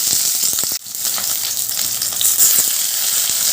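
Prawns wrapped in bottle gourd leaves, for a paturi, hiss and crackle loudly in hot oil over a lowered gas flame, with a brief dip as the parcels go in, then a steady dense sizzle throughout.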